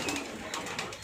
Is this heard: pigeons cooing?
yes